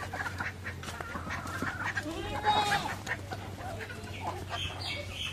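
Chickens cluck quietly in a rural yard at feeding time, scattered short calls mixed with other fowl sounds over a low steady hum, while a person speaks nearby.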